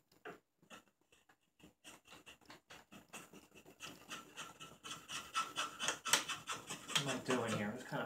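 A carving tool flattens the bowl of a walnut spoon with a steady run of short, dry scraping strokes that start faint and grow louder and denser toward the end, close by with no talk.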